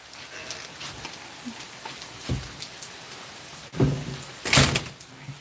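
A door with no slow-close mechanism shuts during steady rain, heard as a couple of sharp thuds and rattles standing out above the soft, constant patter of rain.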